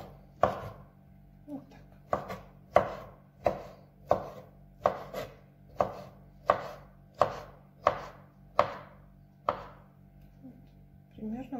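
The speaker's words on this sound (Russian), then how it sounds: "картофель. Не мелко, не крупно." Potatoes are cut into cubes with a knife on a board for a vinaigrette salad, about a dozen crisp, evenly spaced chops, close and clear, with a brief word of speech near the start.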